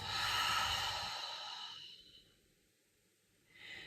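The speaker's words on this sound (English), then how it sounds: "Exhale, slightly open mouth." A long, soft exhale through a slightly open mouth during a guided meditation, fading out into near silence before a faint breath returns at the end.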